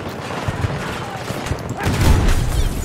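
Chaotic firefight in the video game Breakthrough: a steady crackle of gunfire throughout, then a heavier booming grenade blast near the end that swells louder, with a voice speaking over the combat.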